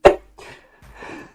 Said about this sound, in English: Ooh, so many sneezes.